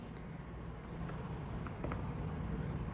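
Soft, quick keystrokes tap continuously on a computer keyboard while code is typed, faint and close, with a few sharper clicks standing out from the steady patter.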